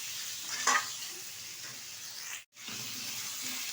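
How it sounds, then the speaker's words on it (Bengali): Spices sautéing and being stirred in a pan for a shalpiya fish curry with gathi kochu, a steady broadband sizzle with a brief scrape of the spoon near the start and a short dip in the frying noise midway. "এবার ভালো করে বেশ কিছুক্ষণ একটু কষিয়ে নেব"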